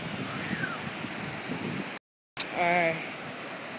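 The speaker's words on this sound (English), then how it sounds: "This right here is the very top of this waterfall." Water roaring at the top of a waterfall, a steady close rush with breezy wind, cut by a brief gap, then a short spoken word over the continuing flow.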